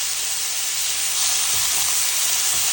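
Garlic frying in hot oil in a pan, a loud continuous sizzle and hiss that stays steady, with a few soft low bumps from stirring near the end.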